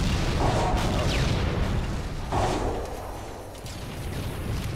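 Gunfire and explosive blasts rattle through a Halo 2 match featuring rockets, a couple of sharp booms with whooshing tails over constant noisy action, fading somewhat toward the end.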